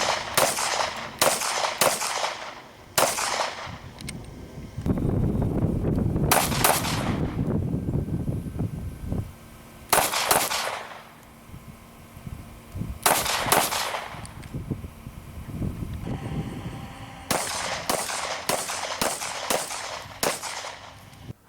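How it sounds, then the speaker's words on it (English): A Glock 36 .45 pistol fires at the range in loud, sharp, close reports. Some shots come singly and some in quick strings, with quiet pauses and a low rumble between groups. "Okay, let's do some shooting."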